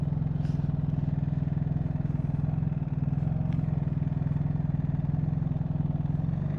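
Motorcycle engines rumble steadily with a low, continuous drone that stays fairly even throughout, a faint clatter now and then.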